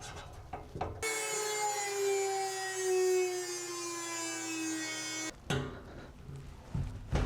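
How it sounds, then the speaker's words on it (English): A rotary tool grinds through the bed of a 1982 Toyota pickup during an electric conversion, giving a steady high whine for about four seconds. Shorter bursts of handling noise come before and after the cut. "I think I'm gonna use a rotary tool for this."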